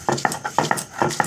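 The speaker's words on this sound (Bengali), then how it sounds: "শিলনোড়ায় আদা বাটা হচ্ছে।" Ginger is ground on a traditional shil-nora grinding stone. The stone gives a quick rhythmic series of gritty scrapes and knocks, about five strokes in just over a second, close and fairly loud, with no talk.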